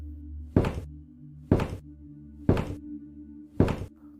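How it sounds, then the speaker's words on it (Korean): Footstep sound effect for a Korean horror radio story set in a large, dark landowner's house at night: four heavy, evenly spaced thuds about a second apart over a low, droning ambient hum, with no voices. "하고 발소리가 들렸습니다."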